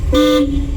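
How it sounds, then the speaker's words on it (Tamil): A single short car horn toot from a car during a driving lesson, close and loud, over a low engine rumble. "ஹார்ன் அடிச்சிருக்கணும்."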